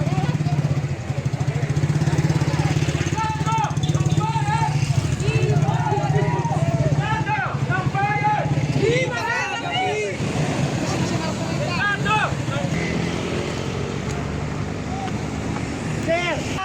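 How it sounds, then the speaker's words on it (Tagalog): Motorcycle engines idle and rev at a street rally outside the Senate, a steady low drone running beneath chanting crowd voices and amplified speech throughout. "At meron pang sumama dito na motor."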